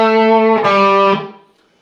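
Electric guitar plays the second half of a lick, a few quick pull-off notes ending on a sustained, wavering note that fades out, loud and alone.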